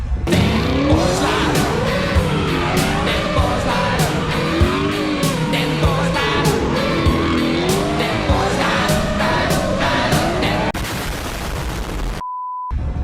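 An old Ford Cortina skids on dirt, its engine revving hard and wavering while sharp cracks and pops punctuate a loud, continuous roar, ending in a sudden cut.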